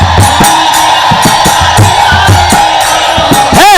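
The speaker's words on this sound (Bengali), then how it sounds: "উলুর ধ্বনি দিয়ে মায়েরা গীতারতি করো" Women ululate during a Gita aarti, their high warbling trills rising repeatedly over a crowd, ending in one loud swooping trill.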